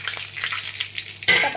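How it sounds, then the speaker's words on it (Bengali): Crushed whole garam masala and a bay leaf tempering in hot oil for doi katla fish, a soft hiss that jumps into a brief loud sizzle burst near the end. "তেলের মধ্যে গোটা গরম মশলা একটু থেতলে নিয়েছি আর তেজপাতাটা ফোড়ন দিতে হবে"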